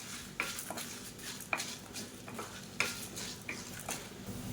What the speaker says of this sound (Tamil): இப்போ கடலைப்பருப்பு நல்லா வறுபட்டு அதோட வாசனை நல்லா வரும். அந்த ஸ்டேஜ் வரைக்கும் வறுக்கணும்.